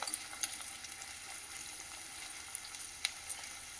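Peanuts deep fry in oil for topping a veg biryani, giving a steady, fairly faint bubbling hiss with occasional light clinks from stirring and no voices.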